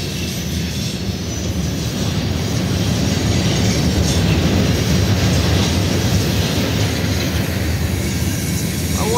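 Empty Norfolk Southern railroad tank cars roll steadily past, a loud continuous rumble of wheels on rail with faint squeal and clatter throughout, no voices.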